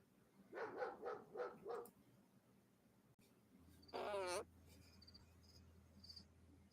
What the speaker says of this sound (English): I'm trying to figure out why the dogs are barking.